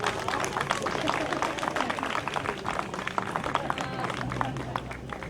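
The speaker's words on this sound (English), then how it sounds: "Give her a nice round of applause." Audience applause at a magic show on a festival stage: a dense, continuous patter of many hands clapping with crowd noise mixed in, holding steady throughout.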